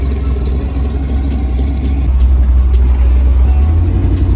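A GM G-body car engine with a choppy cam idles loudly up close with a lumpy, uneven lope, its rhythm choppy and pulsing rather than smooth.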